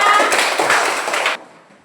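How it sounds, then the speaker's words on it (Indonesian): A group clapping hands together in a class session, a dense burst of applause that holds for just over a second and then stops abruptly, close and fairly loud. "Tepuk tangan untuk kita semua"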